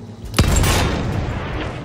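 A single sharp video game gunshot cracks out, followed by a booming echo that slowly fades into a low rumble.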